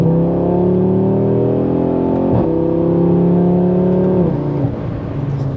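Audi RS3 five-cylinder engine with its valved exhaust fully open in performance mode, accelerating hard with a rising, loud, raspy tone broken by two quick gear shifts.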